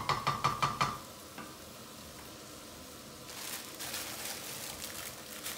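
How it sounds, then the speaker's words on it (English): A few quick clattering stirs at the start, then a soft, steady sizzle of onions frying in a pan, quiet and close. "we've now had this frying for a few minutes, so it's all softened down"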